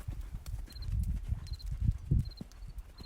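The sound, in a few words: horse hooves during a riding lesson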